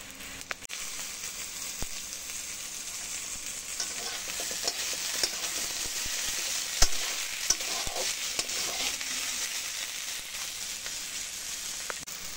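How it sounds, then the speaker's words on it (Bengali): Chopped tomatoes fry in a pan with onion, ginger and garlic for a fish-head curry, giving a close, steady sizzle broken by irregular scraping stirs and small crackles, with no talking. "এখন আমি টমেটো কুচি দিয়ে দিচ্ছি।"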